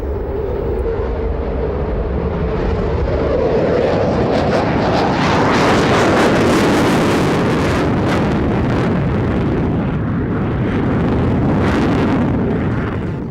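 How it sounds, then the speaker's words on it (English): Four Eurofighter Typhoon jets flying in formation at the Farnborough air show produce a loud, broad roar that swells and then fades, mixed with wind buffeting on the microphone. "For the first time in public, 4 Typhoons, one from each of the partner countries, flew in formation at Farnborough."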